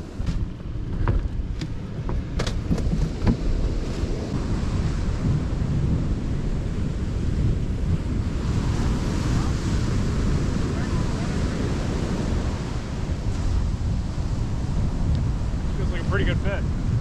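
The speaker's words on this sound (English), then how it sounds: "See how the water's rushing and curling here?" Surf at a beach in late winter: broad, continuous rushing of breaking waves, loud and close, with wind buffeting the microphone and a brief voice near the end.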